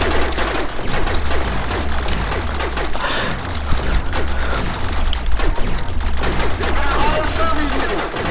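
Rapid gunfire from a Star Wars–themed battle in the video game Rec Room, dense continuous bursts of shots with booms, loud and close, with voices talking over it.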